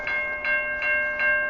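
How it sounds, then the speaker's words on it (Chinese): A level-crossing signal by a lakeside path rings in four evenly spaced tonal dings over a low background rumble as a train passes, fairly loud and close, with no speech. "这个火车啊从那边过去的样子"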